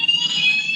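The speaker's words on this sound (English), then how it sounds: "my alarm's gone off at the hotel" A hotel room alarm blares in a loud, shrill, continuous electronic tone, heard alone and close.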